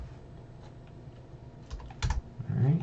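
Code typed on a computer keyboard, with scattered, close keystrokes that grow into a louder, quicker burst toward the end.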